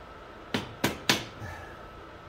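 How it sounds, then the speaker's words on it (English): A hammer taps a motorcycle exhaust into place on a 1965 Matchless G12 CSR in a workshop: three sharp metallic knocks in quick succession, then a pause and a fourth tap, close and distinct. "Tap it all back in with the hammer."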